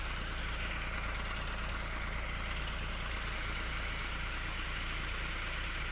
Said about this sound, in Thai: นี่ก็เอาสูบมาสูบน้ำออกก่อน